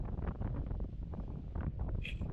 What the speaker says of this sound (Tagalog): Pero mahangin, malakas yung bugong ng hangin.